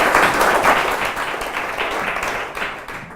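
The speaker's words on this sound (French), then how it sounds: "Bravo, on applaudit." Audience applause at a French business conference panel on advertising data, a dense burst of clapping that peaks early and gradually thins out, with no talking over it.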